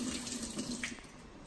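Kitchen tap running steadily while food is rinsed under it in a home cooking setting, a continuous close water stream with no talk.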